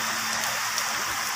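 Steady rain falls during a pause on an eel fishing trip, a continuous even hiss of drops hitting surfaces, close and constant with no talking.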